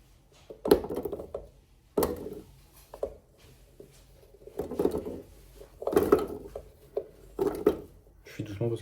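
Vegetables dropped into a container while preparing a recipe, heard as a series of close, clattering thuds and knocks in irregular bursts, with quiet gaps between them.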